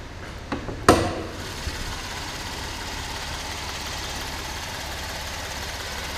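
2012 Chevy Impala 3.6 liter V6 engine idling under the hood, a steady smooth low hum after a brief clunk at the start, close and even throughout.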